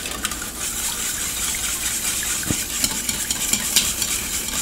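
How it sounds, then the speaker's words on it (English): A whisk works milk sauce in a pan toward a smooth consistency, giving a steady, close swishing and sloshing with faint clinks against the pan, continuous with no voices. "I just use a whisk to get all this"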